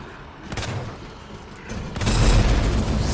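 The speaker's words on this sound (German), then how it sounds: "So, das war Doppelexplosion" Two heavy booms from a double explosion in Resident Evil 2, the first near 0.5 seconds and a louder, longer rumbling blast from about 2 seconds onward, with no voices.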